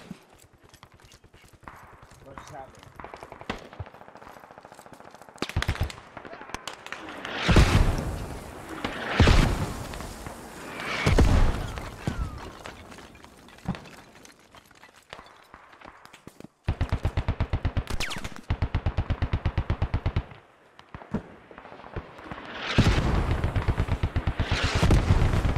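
Machine gun fire in the video game Squad, long rapid bursts of automatic shots rattling out in several loud stretches with pauses between, some close and sharp, others more distant.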